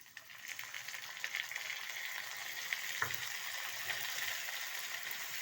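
Ginger and garlic frying in a pan of oil give a steady, even sizzle throughout, with a brief louder spatter near the middle and no talking.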